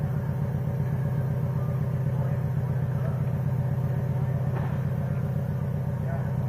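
A car engine idles steadily close by, a constant low rumble running the whole time, with people talking over it.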